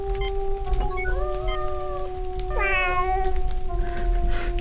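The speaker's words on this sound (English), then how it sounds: "German meow" Cat meowing in the Star Trek: Judgment Rites video game, several short, drawn-out meows over a steady electronic hum and tone.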